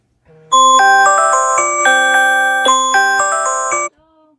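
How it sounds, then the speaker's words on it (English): A phone alarm rings loudly and close: a bright electronic melody of repeating chime-like notes, playing alone for a few seconds before cutting off. "Random alarms."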